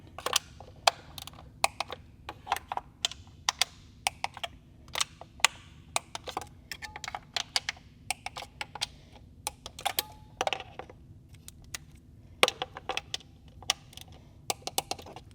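Intake manifold bolts on a BMW B58 engine are being re-tightened in sequence with a wrench, giving rapid irregular sharp ratchet clicks in bursts over a quiet background, no speech.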